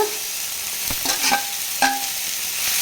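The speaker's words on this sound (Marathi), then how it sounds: "सर्व यात भाजून घ्यायचं आता छान" A spoon stirs matar paneer masala as it roasts and sizzles in a pan, with a close, steady frying hiss and a few scraping strokes, and no voices.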